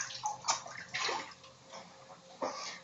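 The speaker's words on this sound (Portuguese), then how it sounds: "acrescentar um pouquinho de água" Water is poured into a blender mixture during recipe preparation, producing a close, splashing gush with sloshing and gurgling in a few uneven bursts, with no speech over it.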